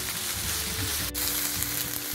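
Sliced onions frying in a pan until golden brown, a steady close sizzle running throughout with a brief sharper crackle near the middle.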